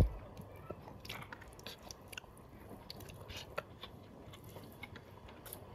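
Quiet, close chewing and biting on a curry of desi baim eel fish cooked with potato and carrot, soft wet squishes and small crunches coming irregularly, with a faint whisper-level murmur now and then.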